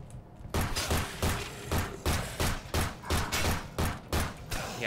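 Gunshots ring out in the game Awaken, a rapid series of about a dozen sharp, evenly spaced bangs, loud and close, following a brief quiet start.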